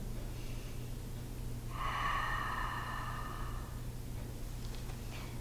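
A person in a gentle beginners yoga session takes one slow, audible breath through the nose, a soft airy rush of about two seconds in a quiet room, with no talking.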